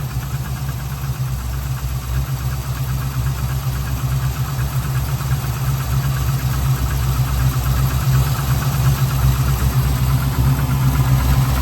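A BMW Z3 M with an LS V8 swap idles steadily and close by, a loud continuous low rumble with a fine mechanical ticking running through it, holding even for the whole stretch with no voices.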